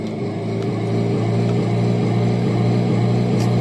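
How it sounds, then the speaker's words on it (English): A car's engine drones steadily as it drives in the Brick Rigs video game, a continuous low hum that rises slightly in level after the first second and then holds even, with no talking. "This car goes pretty fast."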